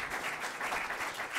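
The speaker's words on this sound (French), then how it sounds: "vous pouvez les applaudir" Steady applause rises from an audience at a free software awards ceremony as two presidents of the CNLL come onstage, moderately distant and even throughout.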